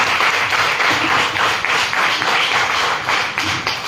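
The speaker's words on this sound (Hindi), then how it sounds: "सबसे पहले तो मैं चाहूंगा हमारे सभी पुराने साथी से एक जोरदार ताली हमारे नए मेहमान के लिए।" Audience applause welcoming new guests at a health awareness program, a dense, steady clapping from a large crowd filling the whole stretch, loud and close.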